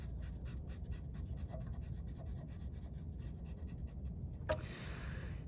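Soft, close scratching of a pen drawing a cross on paper in short strokes over steady low background rumble, with one sharp tap near the end.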